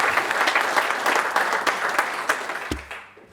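A campaign meeting audience claps steadily and densely, close and loud, before the applause thins and fades out near the end.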